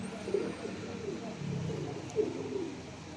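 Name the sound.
teddy pigeon chicks cooing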